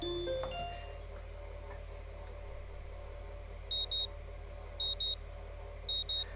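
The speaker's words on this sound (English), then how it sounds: "My morning alarm goes off and I flail about uselessly for a while" A morning alarm clock in the visual novel Katawa Shoujo rings as three evenly spaced pairs of sharp electronic double beeps over a low hum, with no voices.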